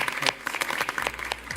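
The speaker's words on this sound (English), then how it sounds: "Give a big applause to the panelists" An aviation forum audience claps for the panelists at the close of a session, with distinct, fairly loud individual hand claps forming an uneven, sparse burst with a low hum underneath.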